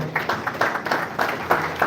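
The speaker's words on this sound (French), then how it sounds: "Encore une fois, vos applaudissements pour les enfants." Mourners at a funeral applaud for the children, a short burst of fairly close clapping with distinct individual claps in an uneven rhythm.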